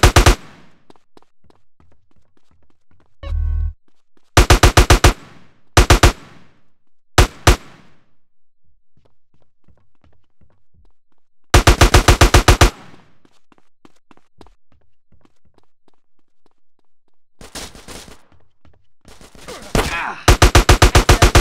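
Gunfire in GTA San Andreas: loud bursts of automatic shots in separate volleys with quiet gaps between them, close and punchy.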